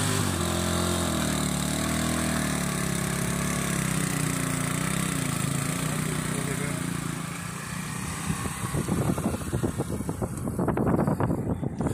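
A motorcycle carrying a whole family rides along with a steady engine drone and heavy wind rush, the engine note shifting and turning rougher and more broken toward the end.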